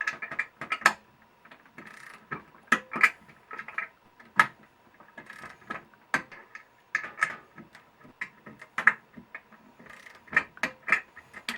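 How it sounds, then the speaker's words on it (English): A 1/4-inch drive ratcheting torque wrench tightens bolts on standing seam roof anchors, giving off crisp, irregular bursts of close clicking with short pauses between strokes. "I have a 1/4 inch drive torque wrench"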